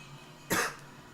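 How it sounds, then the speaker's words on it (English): A single short cough, close and fairly sharp, against a quiet background. "I feel like I have a little cough"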